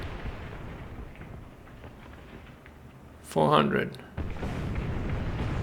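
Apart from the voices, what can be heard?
artillery fire in the video game War Thunder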